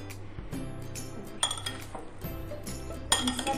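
Chicken, peanut, oil, black pepper and salt salad tossed in a bowl with a utensil, giving repeated close clinks and scrapes against the dish in uneven bursts.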